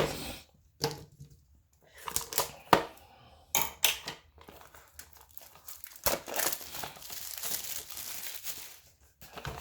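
Packaging of wireless earbuds is handled up close, with crinkling plastic, sharp scissor snips and tearing sounds coming in irregular bursts.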